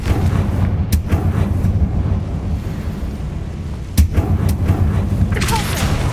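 Confringo blasting spell explosion in the Hogwarts Legacy video game, heard as loud booming blasts amid dense, continuous battle noise, with a sharp burst near the start and another toward the middle.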